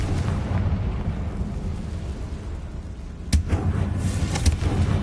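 Confringo spell explosions in the Hogwarts Legacy video game, sharp booming blasts cutting in over a low rumbling game ambience, one heavy hit followed by a couple of smaller bursts.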